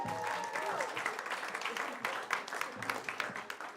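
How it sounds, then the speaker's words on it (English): A comedy club audience in Times Square applauds a comedian coming to the stage, a dense, steady wash of clapping from many hands that fills the room, with faint voices mixed in. "Clap it up for Ryan Reese, everybody"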